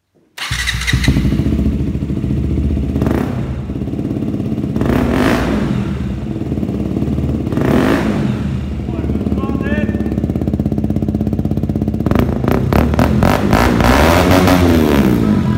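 A motorcycle fitted with a newly bought part idles and revs close by, its loud, steady engine roar swelling in repeated throttle blips, with someone speaking briefly over it.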